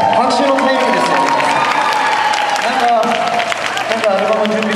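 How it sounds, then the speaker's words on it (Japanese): Crowd at a K-pop band's fan event in Ikebukuro's Sunshine City fountain plaza claps and cheers loudly, a sustained roar of applause and shouts lasting several seconds with voices mixed in. "拍手のタイミングですよ"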